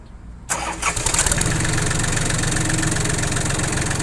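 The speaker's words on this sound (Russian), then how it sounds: "По запуску давайте послушаем, что нам данный трактор предложит." A Japanese mini tractor with about 300 hours on it cranks briefly and catches cleanly, then settles into a steady, loud diesel idle heard close to the exhaust pipe.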